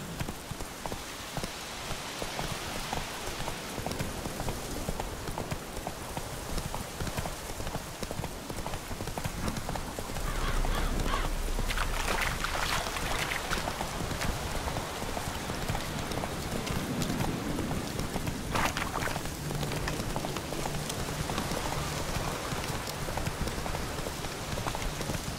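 Horse hooves clip-clop at a steady gallop through steady rain in the Witcher 3 video game, with continuous rainfall noise throughout and a rumbling swell in the second half.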